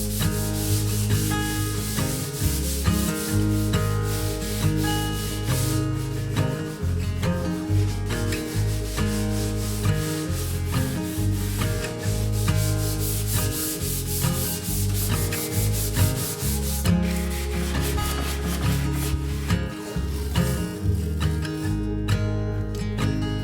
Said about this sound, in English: I need to just sand this and then scuff sand everything else